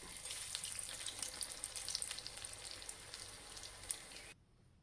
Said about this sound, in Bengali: একদিকে হয়ে গেছে, এখন একটু উল্টে দিব বড়াগুলো।